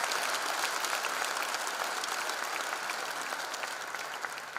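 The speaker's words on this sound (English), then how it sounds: "I request all the parents to give a loud applause to these students" Parents in an audience at a college freshers' induction program applaud the students, a dense, steady wash of clapping from many hands that holds loud and even throughout, tapering only slightly at the end.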